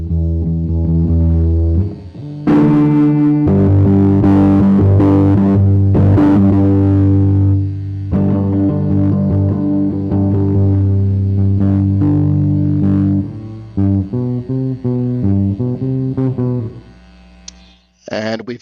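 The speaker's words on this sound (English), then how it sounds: "We've got some distortion." Electric guitar through a Raspberry Pi amplifier's distortion effect, playing sustained chords and a run of short notes, loud and gritty with a thick, saturated tone.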